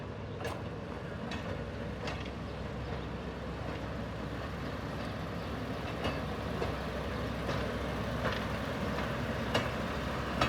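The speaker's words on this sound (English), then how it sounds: "here comes a train that's actually moving" A moving train at a railroad museum rumbles steadily at a distance, a continuous low drone with faint metallic clanks now and then and no voices.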